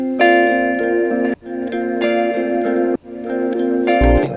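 Several guitar parts from a house track play at once in repeating sustained chord phrases, each cut by a short gap, loud and close with no voice over them.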